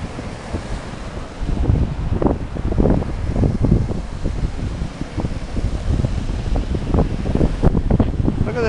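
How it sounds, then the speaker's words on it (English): Steady wind buffeting a microphone at minus 30 degrees on a Montreal street, a low continuous roar with gusty swells throughout, fairly loud and close. "Minus 30, and it's getting windy."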